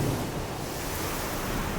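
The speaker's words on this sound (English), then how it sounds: "There's some big waves coming in." Big ocean waves roll onto a beach on the south coast in winter, a continuous roaring surge mixed with wind buffeting the microphone.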